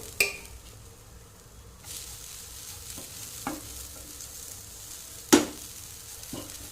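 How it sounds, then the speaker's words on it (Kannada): Grated coconut frying in a pan, a soft, steady sizzle broken by a few sharp scrapes of a spatula against the metal, fairly quiet and close, with no talking. "ಇನ್ನು ಕಾಯಿ ತುರಿಯನ್ನು ಫ್ರೈ ಮಾಡ್ತೇನೆ"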